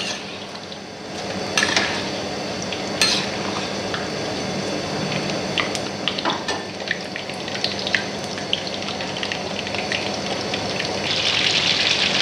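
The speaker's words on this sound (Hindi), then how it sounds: "इसको मीडियम लो फ्लेम पे तकरीबन 8 से 10 मिनट में इसको फ्राई कर लेंगे।" Chicken for chicken Manchurian fries on a medium-low flame, a continuous moderate sizzle mixed with occasional sharp clinks of a utensil against the pan and a brief splashy gush near the end.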